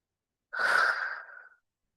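A single slow, deep exhale during a yoga twist, close and soft, a breathy rush of about one second that fades gently, alone in silence.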